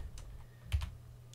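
Typing on a computer keyboard while setting up a folder on a Windows PC, a few quick light clicks in bursts, close and quiet over a faint hum.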